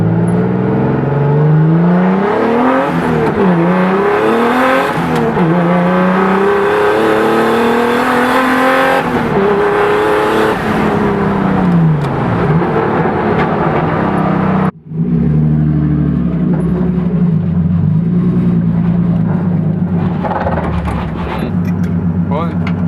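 A race car engine revs and climbs through the gears with rising, falling pitch sweeps and tire noise, loud and close for the whole stretch, cutting briefly before carrying on at a steadier drone.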